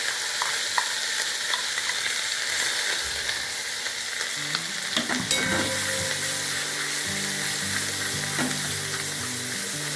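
A red chili spice paste for shahi matar paneer hits a hot pan and fries with a steady, loud sizzle, and spatula scrapes and clinks come in midway.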